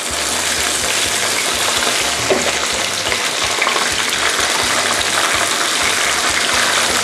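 Turmeric-coated mullet fish frying in hot oil, a continuous dense crackling sizzle close up for about seven seconds, with a brief scrape or stir partway through and no voices.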